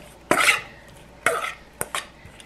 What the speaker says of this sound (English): Mix it up again.